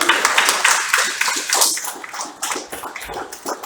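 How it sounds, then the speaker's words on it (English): A congregation claps at a church service for Manchester Justices of the Peace, Region 1, with dense, bright applause close by that gradually thins and fades toward the end. "Give them a clap, everybody."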